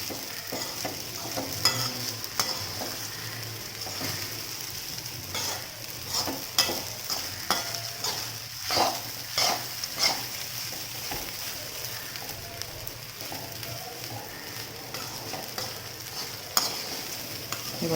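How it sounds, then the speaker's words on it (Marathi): Sabudana khichdi with potato stirred in a pan, a continuous soft sizzle with repeated scraping strokes of the spatula, close and steady, no voices. "सुरुवातीला फक्त हे हलवायचं आहे"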